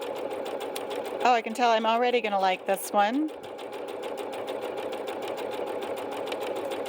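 A Bernette B-77 sewing machine runs a locking stitch with a steady, fast mechanical whir and ticking that goes on throughout, under a brief burst of speech near the start.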